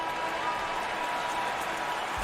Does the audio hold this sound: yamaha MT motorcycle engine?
no